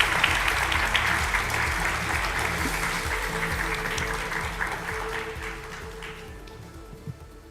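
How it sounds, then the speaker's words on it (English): A large conference audience at the 2025 World Knowledge Forum claps steadily in sustained applause, which slowly fades toward the end. "please greet him with a big round of applause as well."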